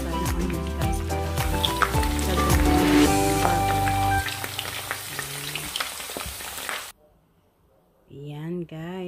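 Onions frying in oil for homemade beef burgers make a busy sizzle under a talking voice with bright clinks, then a short near-silence before the voice returns.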